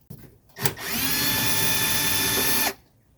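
A power drill whirs up and runs steadily for about two seconds while unscrewing a Phillips screw on a 1983 Mercedes 300D, a close, loud high-pitched motor whine that stops abruptly.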